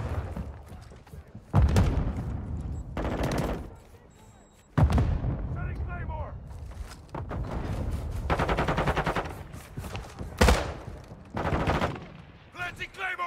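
Call of Duty match with a grenade explosion and bursts of gunfire, loud booms and rapid rattling shots near and far, with game voices calling out over the noise.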